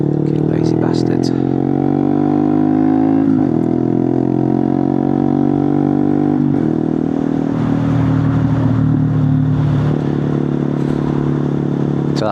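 A Honda Monkey 125 motorcycle fitted with a Scorpion titanium exhaust revs loud and close on the road, its engine note climbing in pitch through repeated rising sweeps as it accelerates, with steady wind rush underneath.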